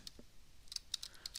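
Several quick, light keystrokes on a computer keyboard, faint and close, come in an uneven burst of clicks with no voice.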